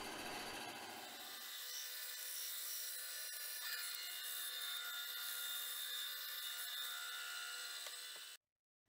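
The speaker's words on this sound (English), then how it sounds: "for the cable to go in, I'm just cutting a slot" A slot being cut in a bolt held in a hand vise: a steady, close, scratchy cutting noise that continues without a break for about eight seconds, then stops abruptly.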